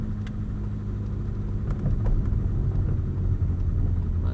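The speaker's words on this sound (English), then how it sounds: "Lee, be nice and steady, back in the pit lane for me please" Ferrari F430 rolling slowly into a pit lane at a driving experience, a low steady engine rumble close by with mild fluctuations and no acceleration bursts.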